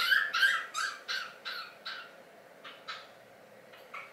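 A pet bird, kept in a covered cage as a writing companion, calls loudly in a steady run of about a dozen sharp, repeated squawks, near and alone, gradually easing in loudness.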